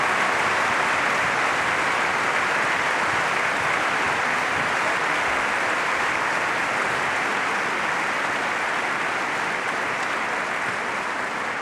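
Warm, sustained applause from a large audience at a choir concert in the Vatican, a dense, steady wash of clapping that holds evenly loud for the whole stretch without voices.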